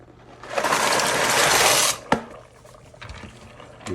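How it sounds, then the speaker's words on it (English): Pasta tumbles into a pot while making mac and cheese, a loud rushing, rattling pour lasting about a second and a half, followed by a single sharp clank and quieter faint stirring scrapes. "We're going to give this a stir. And then in with our pasta."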